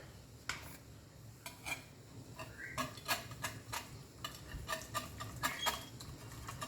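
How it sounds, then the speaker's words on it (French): Spoon clinking and scraping in a pan while stirring tomato paste, a run of irregular sharp metallic taps and scrapes at close range with no voices. "Et on mélange bien."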